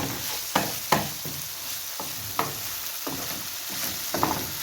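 Minced meat for brik sizzling and caramelising in a frying pan, a steady crackling fry broken by several sharp stirring scrapes at irregular intervals, close and alone.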